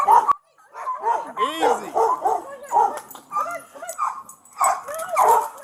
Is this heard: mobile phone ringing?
no